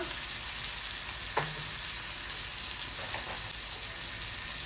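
Chicken masala spices with coriander, cumin, chicken masala and Kashmiri chilli powder sizzle steadily in a pan, a constant close frying hiss with a brief louder clink of a spoon near the start.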